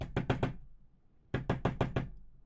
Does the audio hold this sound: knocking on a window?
yes